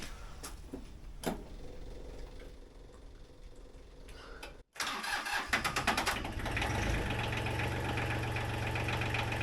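A small diesel tractor engine cranks and catches in cold weather after an oil pan heater warm-up, with a brief silence, a rising burst of revs, then a steady loud idle.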